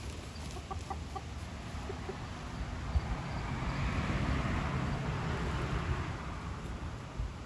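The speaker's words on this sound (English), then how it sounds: "Oh, I gotta get hens for 3 roosters still." Backyard hens and roosters cluck softly and intermittently at a distance over a steady outdoor background hum, with no voices.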